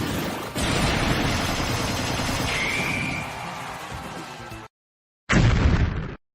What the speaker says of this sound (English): I destroyed the vending machine with a Daybreak.